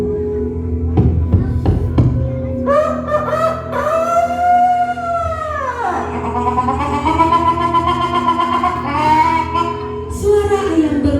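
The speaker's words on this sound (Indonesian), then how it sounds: "Suara ayam berkokok menandai pagi hari telah tiba" A rooster crows loudly and close with a long rising and falling call at daybreak, after a few short clucks from other chickens, ending with fainter follow-up calls.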